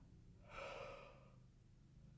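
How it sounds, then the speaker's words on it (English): A single soft yawn, a faint breathy exhale rising and fading over about a second, close to the microphone in a quiet room. "Okay, a yawn out of nowhere."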